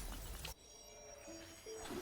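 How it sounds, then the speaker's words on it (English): A protocore cluster shatters in the video game LADS: a sharp crash-like burst opens, then a sustained synthetic hum with rising tonal swells follows, with no voices present. "As the protocore cluster shatters, a distant tremor ripples through the air."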